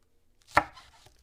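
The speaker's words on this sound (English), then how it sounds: "so I'm chopping 2 more" A single sharp knife chop through green onions on a cutting board, one close crisp strike followed by a short fading tail and quiet room tone.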